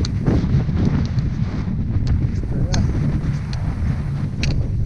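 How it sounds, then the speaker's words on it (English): Strong gusty wind roaring across the microphone outdoors on a cold walk at High Willhays, a constant low rumble with occasional faint higher sounds on top. "Still windy"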